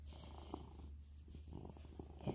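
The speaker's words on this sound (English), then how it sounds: "You hear him purr?" A pet cat purrs steadily up close while resting on the lap of an owner lounging on a couch, a low continuous rumble running beneath faint room noise.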